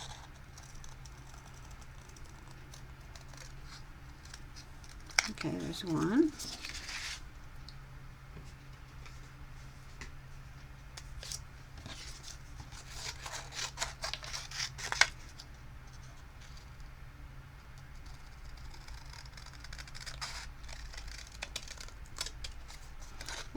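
Scissors snip through paper for a handmade Valentine's card while the paper is turned during cutting, giving brief close crunchy cuts and rustles over quiet room noise, with a short spoken remark.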